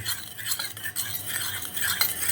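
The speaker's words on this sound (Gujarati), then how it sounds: "ઉપરનો પાક કાઢી અને એને અંદી અંદર નાખી અને સારી રીતે એને મિક્સ કરી નાખી" A homemade Ayurvedic balm being stirred and mixed in a small pot, a steady scraping of a utensil against the container with faint clinks, close and fairly loud, with no voices.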